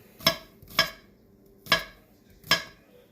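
Knife slicing garlic cloves on a cutting board, four crisp separate chops at an uneven pace, close and clear with quiet between.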